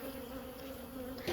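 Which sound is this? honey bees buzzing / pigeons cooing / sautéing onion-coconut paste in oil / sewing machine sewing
honey bees buzzing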